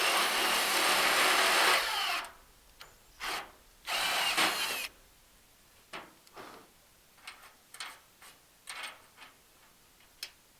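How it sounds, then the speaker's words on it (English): A power drill bores holes through the tread plate floor of a cargo trike bed, with a long sustained whine at the start, then a second run, followed by scattered short ticks and taps of handling parts and tools. "I'm going to go ahead and drill the rest of the holes"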